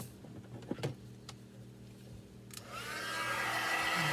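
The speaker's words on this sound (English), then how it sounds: "And then I'm going to come in with my heat tool." A few faint clicks and handling noises, then a heat tool whooshes on, blowing steadily to heat embossing powder on a thank-you notecard; quiet and close, with no talk.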